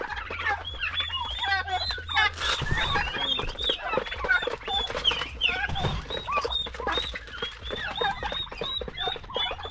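A turkey clucks and gobbles close by in rapid, busy bursts that continue throughout, with a brief louder flurry near the middle and faint background sounds.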